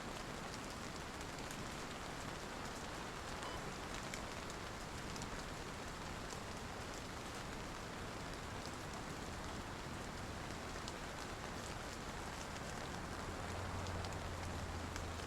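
Rain falls in the Skorpo map of a large-scale multiplayer war game, a faint, even patter and hiss that runs unbroken throughout with no voices.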